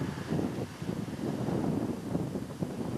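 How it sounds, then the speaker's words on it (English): Outdoor wind after a snowstorm buffets the microphone, a continuous low rumbling roar that gusts unevenly and stays loud for the whole stretch without any talking. "It's getting a little windy again"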